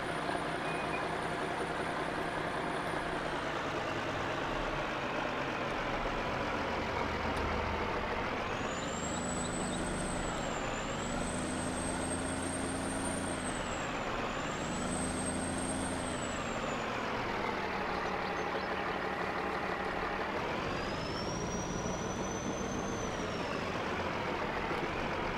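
Truck engine in a Farming Simulator 19 mod, a loud, steady diesel drone that rises and falls as revs change throughout, with faint high hissing tones at times.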